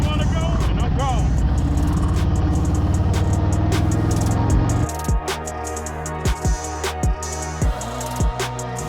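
A 2021 Harley-Davidson Road Glide motorcycle idles with a low, rumbling engine, then pulls away in first gear as the exhaust note drops and a string of sharp, irregular clunks and pops follows.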